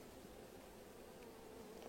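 Honeybees buzz in a steady, low, continuous drone while a beekeeper lifts and inspects frames from a hive. The buzzing is fairly faint and even throughout, with no talking.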